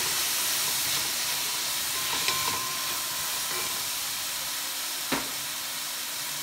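Garlic sizzles in a hot pan during cooking, a steady close hiss of frying with a couple of faint clinks, no voices.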